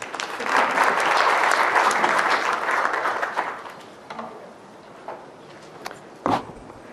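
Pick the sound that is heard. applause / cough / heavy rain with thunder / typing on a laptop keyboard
applause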